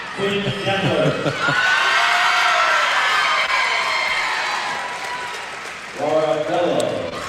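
Crowd roaring and applauding after a high school girls basketball district final, loud sustained cheering and clapping with a commentator's voice over the start and end.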